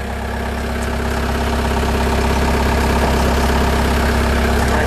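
A Bobcat skid steer loader idles close by, its engine producing a loud, steady low rumble with constant droning texture and no variation, without any talk over it.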